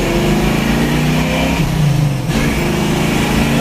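A 1970 Ford Boss 302 engine accelerating, loud and close, its rough note climbing in pitch, briefly dipping, then revving back up.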